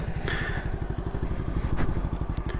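Honda CT70 clone motorcycle with a semi-automatic gearbox, riding close up with a steady chugging engine pulse and a couple of clunky gear shifts, alone without talk.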